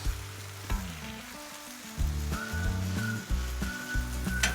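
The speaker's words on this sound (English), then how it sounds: "you can tell when burgers are done when it starts cooking up the side like this" Burgers sizzle on a Blackstone flat-top griddle, a continuous crackling fry heard close, partly under a melodic background music track.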